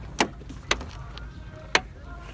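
Front power windows of a green Nissan Primera with a 1.6 engine whir faintly in short runs, punctuated by three sharp clicks as the switches are pressed and released.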